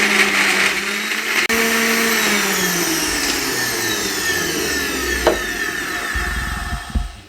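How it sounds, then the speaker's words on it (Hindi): A blender grinding a banana and date milkshake with ice, a loud steady whine that shifts pitch as the ice breaks up, close by and alone, with a rougher rattle toward the end. "बर्फ डालने के बाद फिर इसको 1 मिनट तक अच्छे तरीके से ग्राइंड करेंगे"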